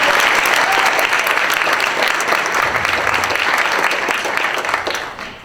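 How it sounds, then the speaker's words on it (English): A conference audience gives steady, sustained applause for the committee at a closing ceremony. The clapping is dense and loud throughout, then tapers slightly at the end. "So please give a big round of applause to our conference committee."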